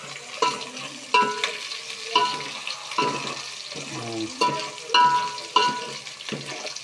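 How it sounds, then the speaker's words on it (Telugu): Onion frying in a pan while being stirred, a continuous sizzle broken by regular scraping strokes of a spoon about once a second, close and fairly loud. "ఉల్లిపాయ బాగా కొంచెం లైట్గా రెడ్ కలర్లో వేయగాలి"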